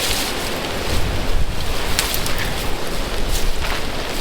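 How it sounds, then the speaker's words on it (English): Strong, steady wind roars across the microphone with gusty low rumbling and a broad hiss, loud and continuous throughout, with no voices. "Very windy out today."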